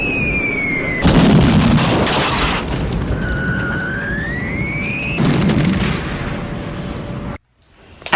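Heavy bomb explosions boom and rumble in close succession for the attack on Pearl Harbor, layered with a rising wailing tone and long roaring blasts, ending in a sudden drop to near silence.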